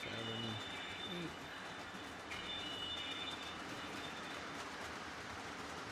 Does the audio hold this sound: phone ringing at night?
no